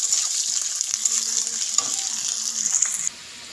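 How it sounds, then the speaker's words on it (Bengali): Onions fry in hot oil in a wok in a home kitchen, a steady loud sizzle that runs continuously for about three seconds with faint stirring scrapes, then cuts off. "এবার আমি এই যে পেঁয়াজগুলো দিয়ে দিচ্ছি। পেঁয়াজগুলোকে ভালো করে ভেজে নেব।"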